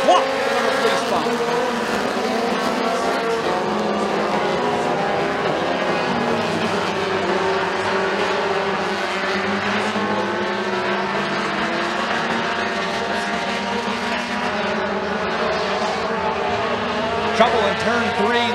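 Mini stock race cars roar around McKean County Raceway in a feature race, a continuous, layered engine drone with shifting pitches as cars run side by side, while an announcer talks over it throughout.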